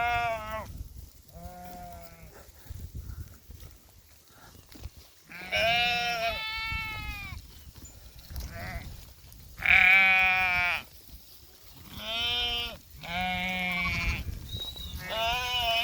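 Goats bleating repeatedly in a Warsaw forest, several loud, quavering calls in close succession with short pauses between, some overlapping, heard nearby with no talk.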